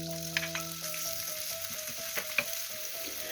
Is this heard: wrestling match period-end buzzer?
no